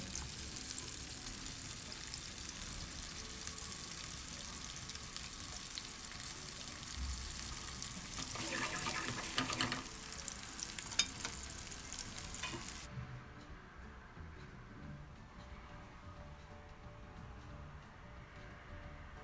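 Meatballs frying in a pan give off a steady crackling sizzle with occasional stirring scrapes, then the sizzle drops to a quieter, duller simmer.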